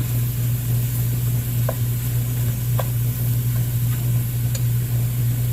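Bacon, onion and hamburger meat sizzling in a pan, a steady, dense frying hiss over a low hum, with a few faint clicks and pops scattered throughout.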